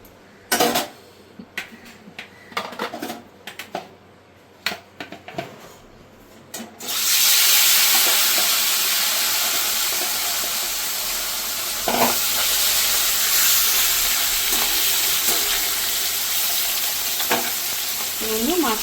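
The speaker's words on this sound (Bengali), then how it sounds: "মাছটা আমি ভেজে নেব ভালো করে।" Parshe fish in a wok: a few scattered clanks and taps of pan handling first, then the fish drops into hot oil and a loud, continuous sizzle bursts up and keeps going, with occasional stirring knocks.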